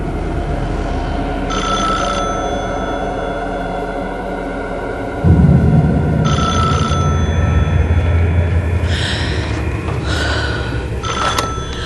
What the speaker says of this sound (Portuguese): Bunny recebe uma ligação de Lorraine Warren